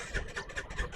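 A Vespa VXL 125 scooter with an empty petrol tank is cranked and fails to start, making a run of rhythmic mechanical pulses roughly five per second, close by and moderately loud.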